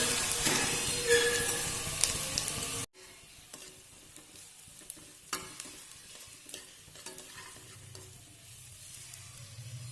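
Onions and dabeli masala stirred and frying in a pan for dabeli, with a steady sizzle and scraping spatula strokes, louder at first and then settling into a softer fry with occasional clinks.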